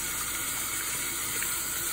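Warm tap water runs steadily into a sink while a makeup brush caked with foundation is rinsed, a soft, even hiss of flowing water with no voices.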